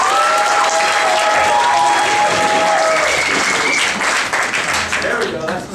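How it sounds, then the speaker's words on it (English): Loud, dense audience applause at a live comedy improv show, steady clapping from a crowd filling the room before tapering slightly at the end, with some voices and cheers mixed in. "Let's give another quick round of applause"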